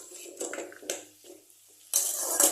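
Peas are stirred in a cooking pot, giving a few separate scrapes and clinks. A louder hissing sizzle swells up near the end, close and fairly quiet overall.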